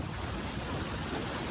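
Ocean surf rolls on Chennai beach, a steady faint wash of waves mixed with wind noise, continuous and distant, with no voices.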